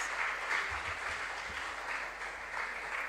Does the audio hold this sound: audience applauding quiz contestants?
yes